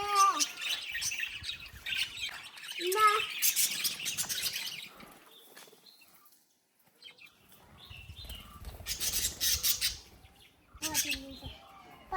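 Parrots being fed give bursts of bright chirps and calls that come and go in clusters, with a short quiet spell in the middle and faint voices nearby.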